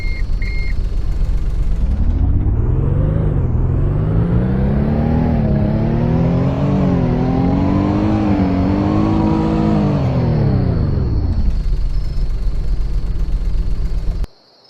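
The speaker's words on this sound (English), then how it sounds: "Now we'll do a sound test on that." A smart car in the Greenville video game revs up from a low hum, its engine pitch climbing and wavering through several rises for about ten seconds before dropping back, while a steady high electronic tone sounds throughout.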